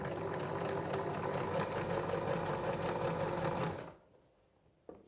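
A sewing machine runs steadily and loudly, stitching forward and backward on a boho handbag, then stops abruptly near the end, leaving quiet room tone and one small knock.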